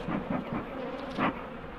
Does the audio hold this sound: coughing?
no